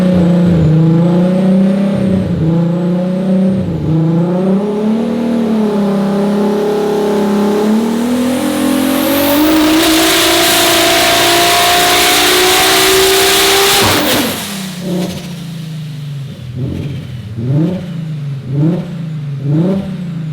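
A home-built, heavily boosted Audi RS3 on a dyno revs in repeated pulls, then a long loud rising run to high rpm before dropping back, followed by several quick blips, close and dominant.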